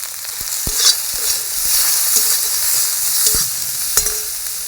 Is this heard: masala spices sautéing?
yes